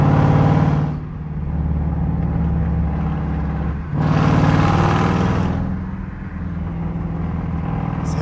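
Jeep Grand Cherokee Summit with a 5.7 V8 and its catalytic converters deleted, the exhaust booming loudly in two throttle surges between steadier low droning cruise on a busy freeway.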